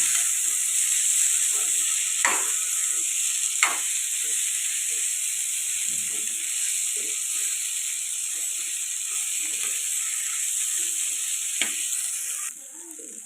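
Potato curry frying in a pan while being stirred, a steady close sizzle with scraping spoon strokes and occasional sharp clinks against the pan, no voices.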